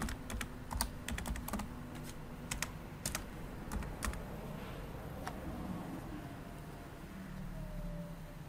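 Quick, irregular clicking of keys on a computer keyboard, close and clear, with bursts of taps and short pauses against a quiet room.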